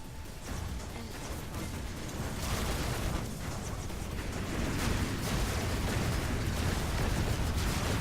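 Missiles exploding in a Robocraft battle: a dense, continuous barrage of booming blasts and crackling bursts that swells slightly and stays loud and chaotic throughout.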